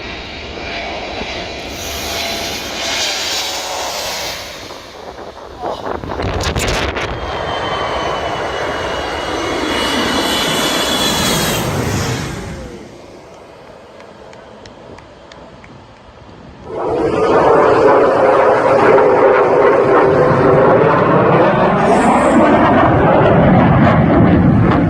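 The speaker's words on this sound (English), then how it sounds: "an Airbus A321 aircraft descends toward the runway at Skiathos Airport" An Airbus A321 descends toward the runway at Skiathos Airport, passing close over a beach. Its loud engine roar rises and falls in broad sustained swells, easing briefly before surging again at full strength near the end.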